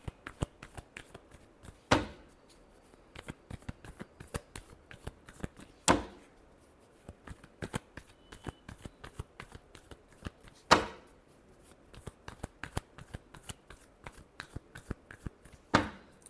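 Tarot cards are shuffled by hand in a quiet room, a long series of soft, rapid riffling flicks broken by three or four sharper slaps as the deck is squared.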